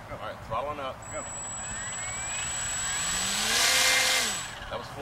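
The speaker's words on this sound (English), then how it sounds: "I'm going to throttle it up so you'll get a feel for how much pressure it's got" Aircraft engine throttled up to full power, a building whine and roar that swells to a peak then eases off, with brief speech at the start.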